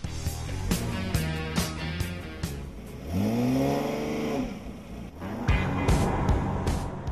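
A Porsche Boxster convertible accelerates hard through its six-speed gearbox, the engine note climbing in pitch, dropping at a gear change, then rising again, loud and close with a roaring exhaust.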